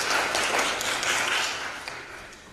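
A room full of audience members claps together in agreement, a dense burst of applause that is loud at first and gradually thins out over a couple of seconds.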